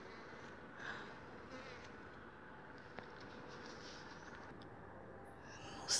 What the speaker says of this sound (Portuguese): Ela tá morando aqui no meu quintal, essa abelha.